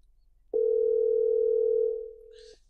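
A telephone dial tone sounds as a single steady, loud hum for about a second and a half, then fades to a quieter level before cutting off, with a brief faint noise at the end.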